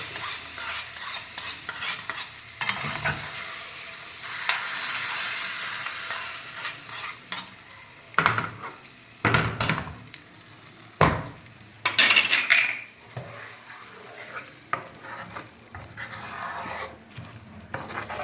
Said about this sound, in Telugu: ఇప్పుడు దీంట్లోకి వేసేస్తున్నాను టమాటా పచ్చళ్ళు